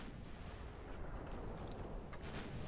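Eight-inch naval guns firing in Ultimate Admiral: Dreadnoughts, a continuous heavy low rumble of gunfire with a few faint sharper cracks on top, fairly quiet and distant.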